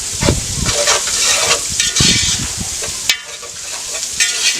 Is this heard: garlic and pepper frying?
yes